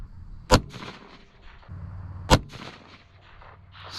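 A .204 Ruger rifle fired at groundhogs goes off twice, two sharp, loud cracks about two seconds apart, each followed by a short echoing tail over quiet outdoor background.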